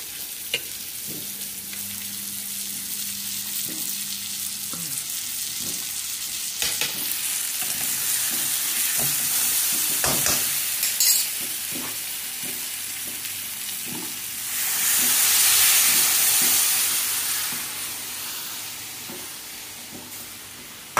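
Stuffed eggplant curry cooks in a pan beside a griddle heating for jowar flatbread. A steady close sizzle carries scattered clinks and scrapes of stirring, with a louder hissing swell of steam toward the end and no voices.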